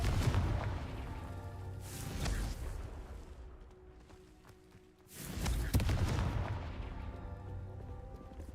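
Confringo fire-spell blasts in the video game Hogwarts Legacy: two heavy booming bursts a few seconds apart, each trailing off into a rumbling roar, with faint voice-like sound in the mix.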